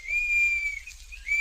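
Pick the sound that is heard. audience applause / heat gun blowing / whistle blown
whistle blown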